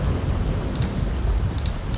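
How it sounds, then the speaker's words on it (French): A video game thunderstorm: rain pours steadily with a low rumble of thunder beneath it, a few brief bright crackles cutting through the downpour. "Une catastrophe naturelle à ce niveau-là, plus un orage."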